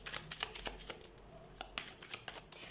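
Close, quiet bursts of tarot cards being shuffled by hand give a string of crisp flicks and riffles with brief pauses between them.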